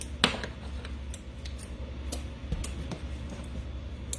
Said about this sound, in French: on prend les ciseaux pour défaire des belles boules de pâte